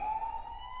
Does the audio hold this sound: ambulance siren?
yes